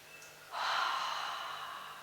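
A broad, breathy exhalation during a beginner full-body Pilates exercise starts about halfway in and holds steady to the end, close and fairly loud, with no talking.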